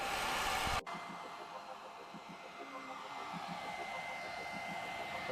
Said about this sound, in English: Sometimes a hair dryer works better.